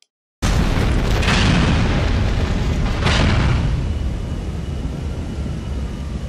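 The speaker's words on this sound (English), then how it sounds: "throw some sticky bombs, couple here, few more, and yep, there we go." Sticky bombs detonating on a plane in GTA 4 Ballad of Gay Tony, a sudden loud blast followed by a second boom and a rumbling roar that stays heavy and sustained.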